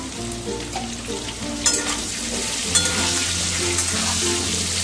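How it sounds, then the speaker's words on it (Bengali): Potatoes frying in oil with a little turmeric and salt, a steady dense sizzle with a few soft stirring knocks, close and fairly loud with no voices. "একটু ভালো করে ভেজে নেবো, যাতে আলুগুলো অর্ধেক সেদ্ধ হয়ে যায় ভাজতে ভাজতে"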